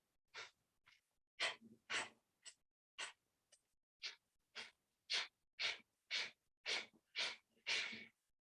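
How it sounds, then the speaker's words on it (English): A person does a breathing exercise, making a series of about fifteen short, sharp exhales through the nose in an even rhythm, close and clear with quiet gaps between. "I'm going to exhale out through my nose."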